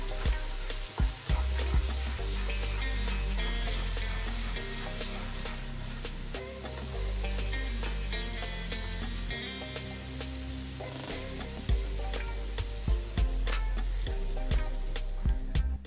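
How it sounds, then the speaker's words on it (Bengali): Chyapa shutki, fermented dried fish, is stir-fried and frequently turned in a pan, giving a dense, steady sizzle broken by repeated scraping and clattering strokes, close and continuous with faint background tones and no talking. "ঘন ঘন নাড়াচাড়া করে নিতে হবে।"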